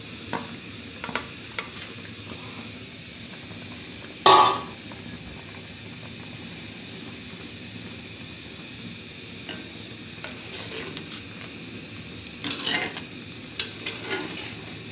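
Fish pieces are stirred into a simmering curry in a pan. A faint, continuous simmer runs under a few sharp metallic clanks and scrapes that come at scattered moments.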